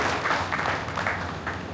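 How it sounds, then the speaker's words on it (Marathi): An audience at a felicitation event in Katol claps for a newly elected legislator, a steady round of applause lasting a couple of seconds, moderately loud and without speech. "जरा जोरदार टाळ्या वाजवून ठाकूर साहेबांचं आपण अभिनंदन करू"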